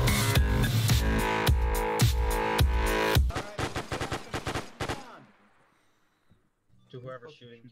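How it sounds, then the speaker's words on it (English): Rapid automatic gunfire in Arma 3 comes in loud, dense bursts, then sharp scattered single shots before falling silent. A voice begins faintly at the end. "To whoever's shooting, please fucking stop."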